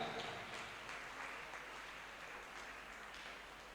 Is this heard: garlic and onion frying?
no